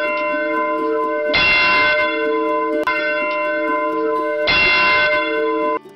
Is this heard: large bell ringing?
yes